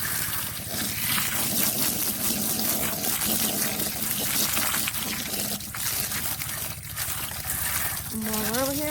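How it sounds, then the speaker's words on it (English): Water pours and trickles into animal feed during morning farm chores, a continuous close splashing gush under noisy background, with a brief rising tone near the end. "now we add the water to the feed"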